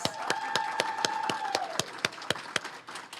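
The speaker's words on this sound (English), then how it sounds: "Let's give Haley a big round of applause" Sharp, evenly spaced claps ring out close by at a vet tech pinning ceremony, about four per second, over a faint sustained tone.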